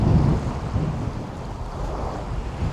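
Strong wind and waves on the Lake Baikal shore in Siberia, cold and blustery: a continuous roar of gusts buffeting the microphone over rumbling surf, with no voices.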